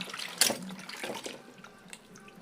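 Vegetables such as drumstick and broad beans are swished and rinsed by hand in water in a kitchen, with splashy, trickling bursts and a sharp slosh near the start, fairly close and without talking.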